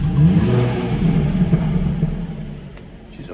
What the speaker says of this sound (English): This car does also come with the optional sports exhaust.